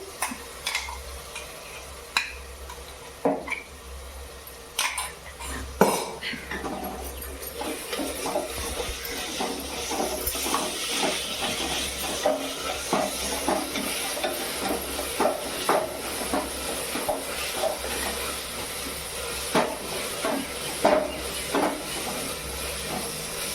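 Ginger garlic paste fries in a pan for mushroom biryani, a continuous hissing sizzle broken by frequent scraping and knocking stirs of a spoon against the metal, close and fairly loud throughout.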